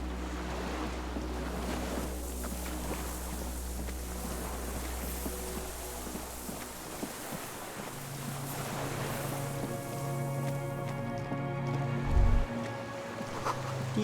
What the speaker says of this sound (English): The distant sound of cargo ships. Signal horns echo on the water.